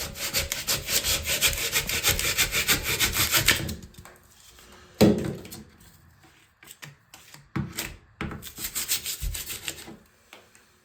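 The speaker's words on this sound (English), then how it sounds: "You can use anything similar like this and just saw away." Hand saw cutting through hardened filler in a plasterboard wall, a steady run of rasping back-and-forth strokes at close range, then a pause with scattered knocks before a second burst of sawing.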